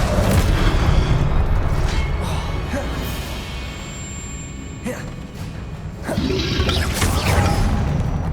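Spell blasts in Hogwarts Legacy combat: booming impacts, whooshes and crashes layered over a dense, loud game soundscape, with sharp bursts near the middle and a heavier barrage toward the end.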